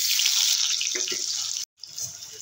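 Boiled potatoes sizzle steadily as they fry in hot oil in a pan, a continuous bright hiss that cuts out briefly near the end before resuming.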